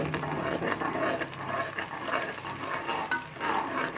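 Coriander frying and being stirred in a pan, a steady busy sizzle with scraping stir strokes running throughout at close range, no voices.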